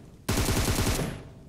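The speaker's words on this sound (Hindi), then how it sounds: "भैया के बम पे गोलियां पड़ी" A sudden close, loud burst of rapid automatic gunfire in PUBG Mobile, a dense volley lasting about a second before tailing off.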